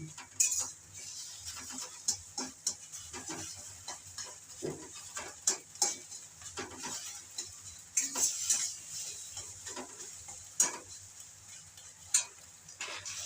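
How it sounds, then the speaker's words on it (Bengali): Two eggs crack into hot oil in a kadai and fry with a steady, crackling sizzle, punctuated by sharp clicks and scrapes of a metal utensil against the pan; no one speaks. "তেলটা গরম হয়েছে, এবার ডিম দুটো ঢেলে দিচ্ছি"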